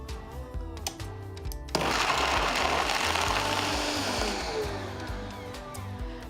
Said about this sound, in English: So all you need is a blender and you need your dates and just filtered water.